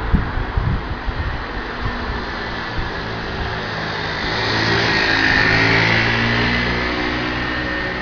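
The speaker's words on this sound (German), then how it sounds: "Ist hier leider etwas laut durch die Autos." Traffic streams past near a historic tithe barn at Burg Kerpen in Illingen, Saarland, a steady broadband roar of cars with one passing vehicle swelling louder midway, continuous with no talk.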